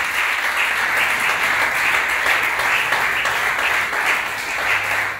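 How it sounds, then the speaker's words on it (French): Congregation applauding during a Friday church service, steady dense clapping sustained throughout without a break, fairly loud and close. "Acclame pour la gloire de Dieu."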